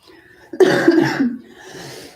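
A single person coughs, a short harsh burst with a couple of rough follow-up hacks, close to the microphone against a quiet background.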